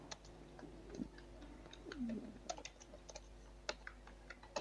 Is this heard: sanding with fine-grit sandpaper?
no